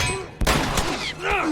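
Gunfire in the video game The Last of Us, two or three sharp broadband shots in quick succession over background game music and effects, with a voice-like tonal sweep near the end.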